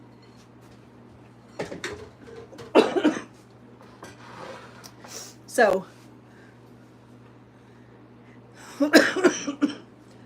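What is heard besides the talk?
coughing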